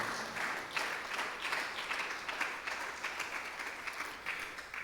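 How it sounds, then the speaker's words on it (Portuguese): Faint, steady applause from an audience at a poetry prize event in a museum, a continuous patter of many hands clapping with no talk over it. "uma salva de palmas para a Junta de Freguesia, para o prémio e para António Salvado"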